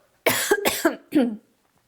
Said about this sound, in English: so sorry for coughing in your ear